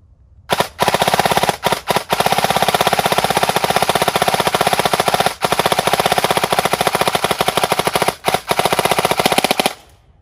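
A KWA 2021 BLR MOD 2 prototype airsoft rifle fires in binary mode, producing a loud, rapid mechanical rattle of shots in long sustained strings broken by a few brief pauses, close and with no talking.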